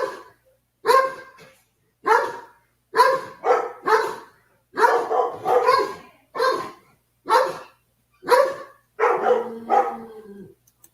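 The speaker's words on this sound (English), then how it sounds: "In the background, you hear his sister barking on the other side of the house." A dog barks in repeated bursts from another part of the house, sounding somewhat distant, with short pauses between volleys and a longer whining bark near the end.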